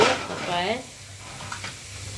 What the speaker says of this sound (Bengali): এই কড়াইটার ভিতরে আমি তেল দিয়ে দিচ্ছি মাছ ভাজার জন্য